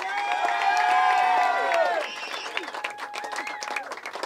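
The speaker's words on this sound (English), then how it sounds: "Please give a huge round of applause for the new Mr. and Mrs. O'Donnell." Wedding guests in Cyprus break into loud applause and cheering for the newlyweds, a dense clatter that peaks early and then thins into scattered claps while voices carry on.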